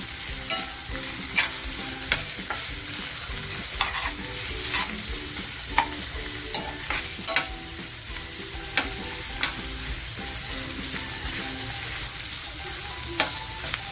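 Chopped onions frying in a pan for mutton pepper fry, with a steady bright sizzle and repeated scraping strokes of a spatula as they are stirred continuously, close and without speech.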